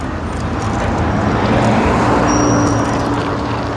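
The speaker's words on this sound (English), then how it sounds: "You can probably hear there's still quite a bit of traffic." Road traffic noise heard on a bike commute, a steady loud wash of passing cars and engine rumble close by, continuous throughout with no talking.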